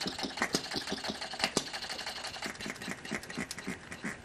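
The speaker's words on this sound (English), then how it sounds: "And this hit and miss sound is normal for it." An old hit-and-miss stationary engine runs in a shop, giving a steady stream of sharp, rapid mechanical beats with an irregular firing rhythm, close and fairly loud.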